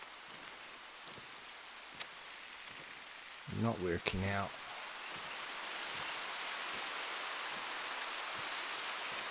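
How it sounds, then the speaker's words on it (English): Steady rain in theHunter: Call of the Wild falls as a continuous hiss through the whole stretch, with a few faint drip ticks and a brief spoken line in the middle. "The rain's not really helping."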